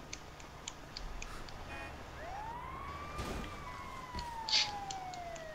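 Ambulance sirens in a video game: a wailing siren sweeps up and down at moderate distance over steady background noise, with faint ticking and a brief clank.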